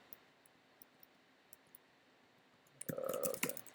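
A computer keyboard clatters in a quick, dense burst of typing near the end, after a stretch of faint, sparse clicks while a command is entered to set up a drone flight controller.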